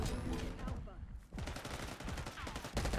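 Rapid bursts of gunfire from a Vault Control match on the map Iridescent, a loud, dense clatter of shots that breaks off for a moment and then resumes, with a voice speaking faintly underneath.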